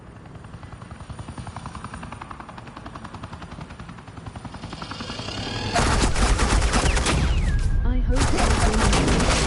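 Sustained automatic gunfire erupts loud and dense in Batman: The Enemy Within, a rapid rattling burst that starts after a steadier rotor-like drone and carries on over it, with a brief voice at the start.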